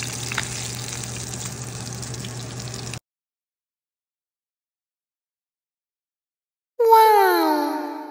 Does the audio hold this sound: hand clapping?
no